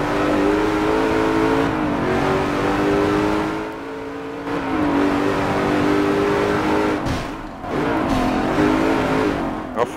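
Race car engine in Forza Motorsport 7 revving hard and continuously, pitch climbing and dropping through gear changes, loud and close with brief tire noise, no talk.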